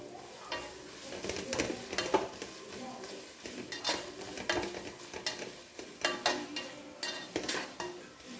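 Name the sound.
sautéing green chillies and crushed garlic in pan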